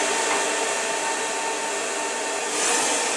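Handheld hair dryer blowing on its cool shot setting, a steady close airflow whine and rush that holds evenly, swelling slightly toward the end, with no talking.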